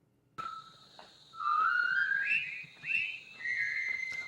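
A person whistles the military march from the 1957 film The Bridge on the River Kwai, a clear, lone melody of rising and sliding tones in several short phrases, close and steady over quiet.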